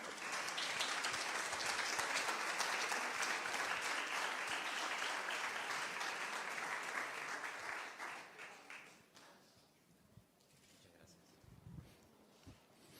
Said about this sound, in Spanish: si te aplaudieron quiere decir que les gustó la información que diste